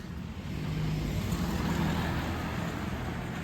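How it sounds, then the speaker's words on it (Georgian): A car drives past on a village road, a steady broadband engine and tyre rumble that swells slightly and holds throughout, fairly close, with no talk over it. "აჰა კიდე მანქანა მოდის იქიდან"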